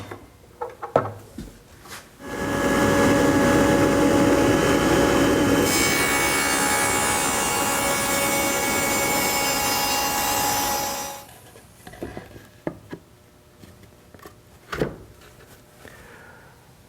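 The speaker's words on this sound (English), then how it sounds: "It's better to begin with a dado that is too shallow and make multiple passes to produce a deeper cut." A table saw with a Freud dado blade cuts through MDF, a loud close whining grind lasting several seconds, with the motor spinning up and winding down around it, amid scattered workshop knocks and no talking.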